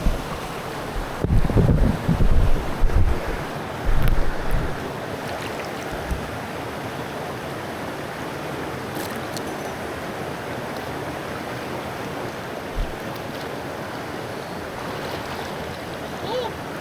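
River water rushing steadily past a rock crack at a gold prospecting site, a broad continuous wash with a few louder splashy bursts early on before settling into an even flow.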